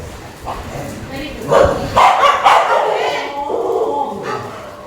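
Puppies yip and bark in short, close bursts, with whimpering between them. People talk over the sounds while a house is being washed nearby.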